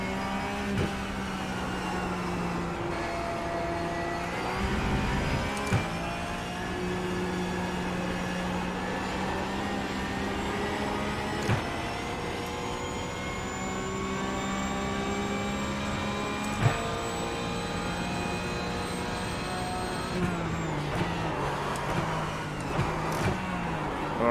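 A racing car engine in a video game on a cheap motion simulator, revving and shifting continuously through a flying lap, with rising and falling engine pitch and occasional sharp clunks.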